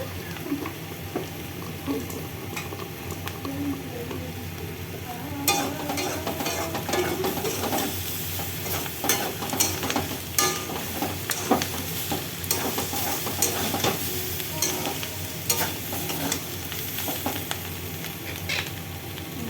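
Spices being fried and stirred in a pan for a vegetarian dish, a steady loud sizzle broken by frequent scraping stir strokes throughout, with no talking.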